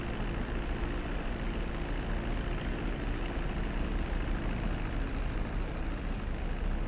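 An airplane engine in GTA 5, a steady loud droning roar with a low humming throb, constant and close throughout with no talk over it.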